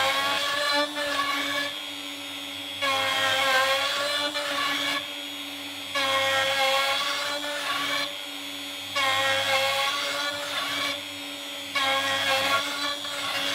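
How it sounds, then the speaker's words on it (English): A router on a milling sled passed back and forth across a wood slab to flatten it, a steady high whine that rises and falls in repeated passes. "I'll take this mill of mine sled and run the router across this back and forth"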